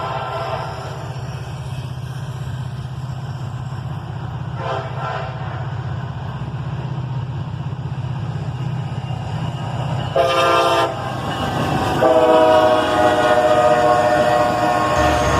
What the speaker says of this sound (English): we watched this next northbound train together